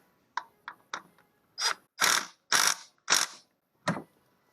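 A ratchet wrench tightening bolts on the thermostat housing of a GM 3.4 engine in a 2003 Pontiac Montana, giving a series of short clicking bursts, close and fairly loud, with no talking.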